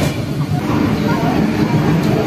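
The Howrah–Ranchi Intercity Superfast Express rumbles along as it nears Kharagpur, a steady low roar of wheels and carriage noise heard from inside the coach without pause.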